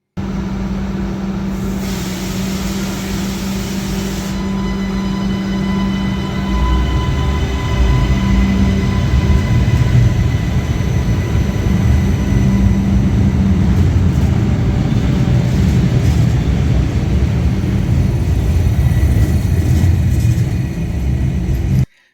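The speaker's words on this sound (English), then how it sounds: "Have a listen to just how much more quiet these trains are as they leave Adelaide Railway Station under" A battery-powered passenger rail car pulls out of Adelaide Railway Station with a steady, fairly loud rolling rumble that swells as it gathers pace, accompanied by faint high whine and wheel noise, with no talking.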